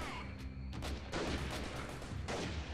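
Gunfire in the game Freeman: Guerrilla Warfare, a handful of sharp distant-sounding shots spaced irregularly over a low steady rumble, fairly faint overall.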